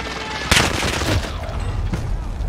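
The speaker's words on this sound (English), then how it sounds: "Enemy precision airstrike" Precision airstrike explosions in the Warzone video game, a sharp blast followed by a rolling boom and further rumbling impacts, loud and close.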